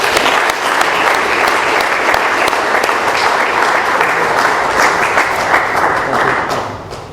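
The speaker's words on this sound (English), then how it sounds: "Let's give another round of applause for Jimmy." Sustained applause from a large audience at an Alcoholics Anonymous meeting, steady and dense clapping throughout before tapering off slightly at the end.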